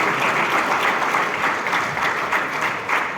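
A lecture-hall audience at a memorial lecture in Ghana applauds former President John Agyeman-Duah with loud, dense clapping from many hands, sustained evenly across the whole moment with no talking over it.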